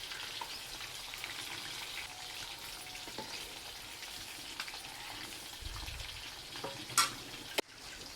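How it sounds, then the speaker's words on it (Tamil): Quail pieces fry in a pan with a soft, steady sizzle and crackle throughout, punctuated by a few faint clinks and a sharp utensil knock near the end. "காடை பொரியல் இங்கே வர பொறிச்சிட்ருக்கு"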